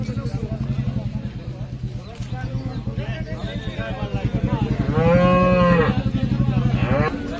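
Cows moo at a cattle market in Baramati, with one drawn-out, close moo standing out amid a rhythmic mechanical thumping and people talking nearby.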